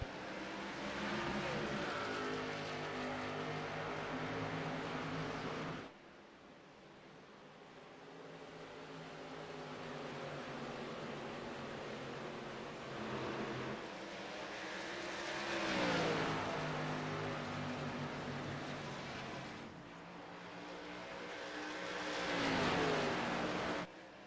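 Race cars roar away at the green flag at Rockingham Speedway, engines droning loudly and steadily, swelling at times as cars pass by, with no talk over them.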